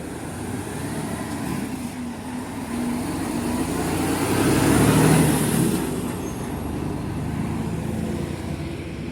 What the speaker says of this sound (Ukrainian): Так, виїжджає ще одна машинка з епіцентра.